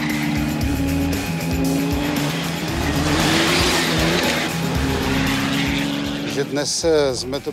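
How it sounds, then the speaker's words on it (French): A rally race car drives hard over stony terrain, its engine roaring steadily and close with rumbling and tire noise throughout, ending in a brief screech. "On passe à présent à la course auto"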